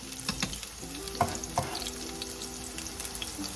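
Garlic hits a hot pan for chicken adobo made without soy sauce, sizzling steadily close up, with a couple of sharper clinks as it is stirred.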